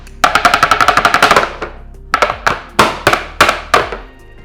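Filled chocolate bar mold rapped against a kitchen counter in loud, close bursts of rapid knocks, a long rattling run followed by several separate sharper taps.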